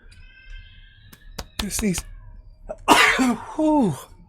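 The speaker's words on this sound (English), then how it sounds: "I'm gonna sneeze." A sharp, explosive sneeze bursts out near the microphone, preceded by a few small clicks and a short breathy catch, followed by a brief vocal sound.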